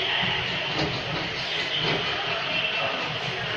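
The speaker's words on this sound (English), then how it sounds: "This is train station." MRT train station ambience, a steady rumbling hiss of rail noise and machinery filling the space, continuous and fairly loud with no clear talk.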